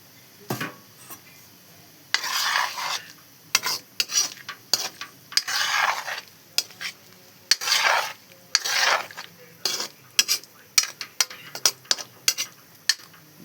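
Cauliflower pieces stirred and sautéed in a pan make rough, scraping bursts of spatula against metal in uneven strokes, close by and alone, with a faint sizzle between strokes.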